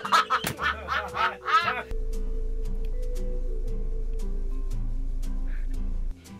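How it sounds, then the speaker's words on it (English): A duck quacks several times in a quick burst of loud, close, nasal calls, followed by a steady low hum with scattered soft knocks. "bird."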